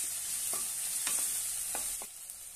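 Half a spoon of ginger-garlic paste frying in a pan for a village-style brinjal curry: a continuous bright sizzle runs throughout, with a few faint taps of a stirring spoon, close and even.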